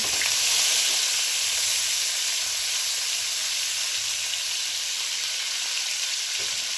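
About 100 grams of shrimp fry in hot oil, a dense, steady hiss and crackle of sizzling that stays loud and close throughout without pause.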